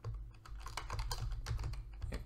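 Keys clatter in a fast, continuous stream of typing on a computer keyboard, close and fairly quiet, with no talking over it.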